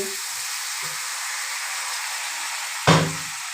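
Water from a blended spice paste pours into a hot pan for a vegetarian new-potato dum, bursting into a loud, sudden sizzle near the end after a steady background hiss.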